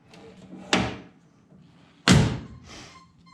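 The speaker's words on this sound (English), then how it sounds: "So let's see if we can shut the door." A Jaguar MKII car door without its rubber seal is shut twice, each a loud, solid metallic slam about a second and a half apart, with faint handling noise between.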